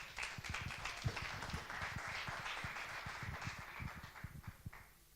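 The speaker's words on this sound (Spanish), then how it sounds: "Un aplauso para Luis." A lecture audience claps to welcome a speaker at a conference talk on chess as an educational tool, a brisk patter of many hands, fairly faint and thinning out toward the end.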